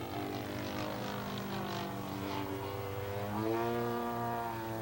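A propeller-driven aerobatic airplane engine drones steadily, then the pitch drops as the throttle is pulled back and rises again as power is added, a continuous loud tone throughout.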